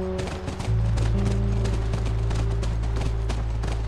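Rhythmic hoofbeats of a galloping horse in the video game The Last of Us pound steadily over a low droning hum, loud and continuous after a brief quieter start.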